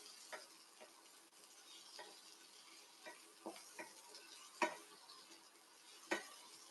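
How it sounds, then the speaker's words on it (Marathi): Capsicum being sautéed in a pan, a faint low sizzle under repeated spatula scrapes and taps at irregular intervals, with two sharper clinks near the end, quiet and close, no talking. "शिमला मिरची सुद्धा एखादा मिनिट छान अशी परतून घेणार आहेत"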